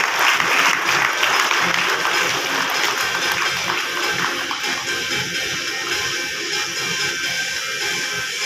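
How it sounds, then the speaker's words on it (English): Audience applause at the Bangalore Tech Summit 2021, a large conference hall, with steady dense clapping that fills the whole stretch and slowly tapers a little toward the end. "So give a huge round of applause for CureFit"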